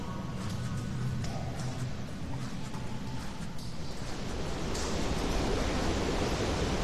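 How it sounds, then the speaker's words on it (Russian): A waterfall in the horror game Call of Cthulhu gives off a steady, broad rushing roar of falling water that swells slightly near the end, with no talk. "И я слышу водопад."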